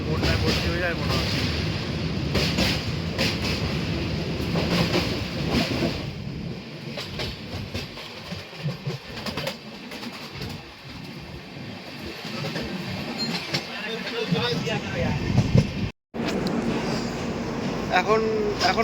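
The 13151 Kolkata–Jammu Tawi Express runs on rails near Dhanbad Junction, giving a steady, loud rumble of wheels and carriages throughout, with faint background voices and a brief dropout near the end.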